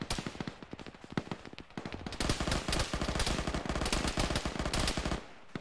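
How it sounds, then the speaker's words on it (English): Arma gunfire in a ShackTac squad session: dense, overlapping automatic bursts and single cracks rattle almost continuously, loud and close, with a brief lull near the end and no speech. "There's somebody shooting that little, yeah, thing up there"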